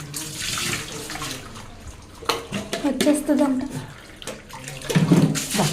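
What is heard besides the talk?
water poured from a mug while bathing a puppy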